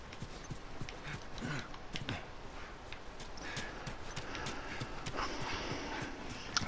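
Horses in The Last of Us video game clop quietly along with steady hoof steps, faint and mixed into soft ambient game noise.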